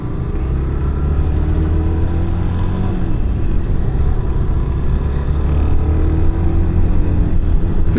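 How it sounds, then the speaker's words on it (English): A Suzuki DRZ400SM motorcycle on a test ride: a loud, steady low engine drone with humming harmonics that rise and ease slightly as it runs, with rushing wind noise and no talk. "we're on a test ride on a DRZ"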